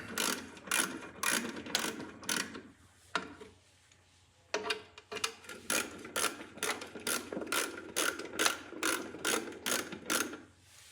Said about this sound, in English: this is an old snap-on ratchet head that you can put an extension on the bottom or in the side